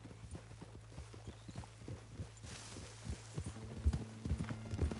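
Horse hooves clip-clop steadily in Red Dead Redemption 2, the game horse moving at a quick pace with a low engine-like hum beneath and a few heavier thuds near the end.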